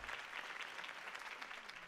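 Crowd applause in the Batman: The Telltale Series video game, steady and dense clapping from a large audience that fills the moment without pause, with no voices over it.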